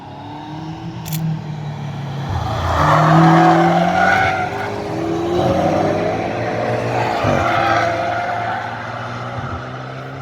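Race cars drift around the Nürburgring with long, wavering tire squeal and engine roar rising and falling as they slide past, loud and sustained with shifting pitch.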